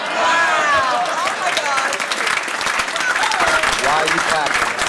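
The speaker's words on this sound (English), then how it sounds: "Why are you clapping?" Audience at a Hall of Fame event bursting into applause, a dense, fairly loud clatter of many hands clapping, with voices calling out over it.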